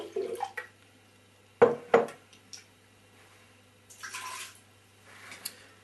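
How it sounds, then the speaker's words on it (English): Splashes and sloshes of water close by, a couple of sharp pours followed by softer rinsing hisses in a quiet room. "going to sluice that out with a bit more water."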